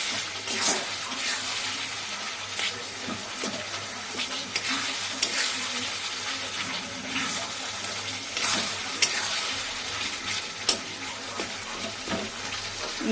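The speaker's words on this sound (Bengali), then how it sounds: "দেখো এবার মাংসটা ওর মধ্যে দিয়ে দেবে" Chicken meat hits a frying masala paste for spiced chicken curry, a close, busy sizzle broken by sharp clanks and scrapes of stirring, with faint background voices.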